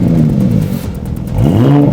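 A modified 2017–2023 Porsche Panamera exhaust revving hard, two loud close blips with rising engine pitch separated by a brief drop, heard alone without talk.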